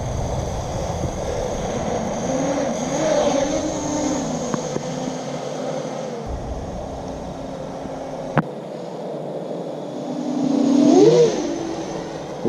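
A long range FPV drone with 8-inch props flying, a droning motor whine that rises and falls as it moves, with a closer, louder pass near the end.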